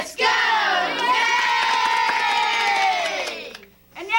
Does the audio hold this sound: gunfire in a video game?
no